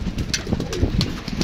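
Pigeons coo close by, low throaty repeated calls overlapping one another with faint rustling in between.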